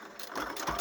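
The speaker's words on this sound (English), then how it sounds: "So now we're going to go back in our sewing machine. We are going to stitch it up." A sewing machine hums and whirs briefly as it stitches, a quick mechanical run that builds slightly in the moment it lasts.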